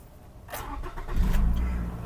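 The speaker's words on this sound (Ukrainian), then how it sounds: "Давайте ми заведемо автомобіль" A 2016 Toyota RAV4 engine cranks briefly and catches, settling into a low steady idle rumble that stays close and fairly loud.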